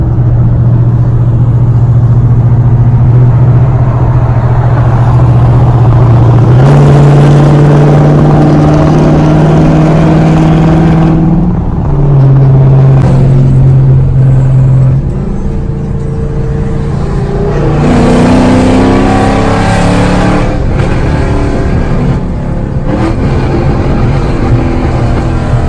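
A Subaru WRX with straight pipes and an X-pipe exhaust revs hard and loud, its droning exhaust note climbing in pitch, dropping and rising again over a steady idle rumble.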